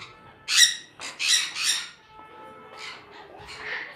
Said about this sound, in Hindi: हर बर्ड शौक़ से खाता है, सारे सारे अब खा रहे हैं।